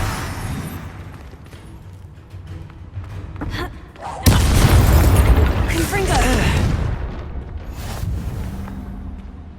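A Confringo fire spell detonates in Hogwarts Legacy combat, a sudden loud booming blast with a rumbling tail, among other spell effects and a voice speaking.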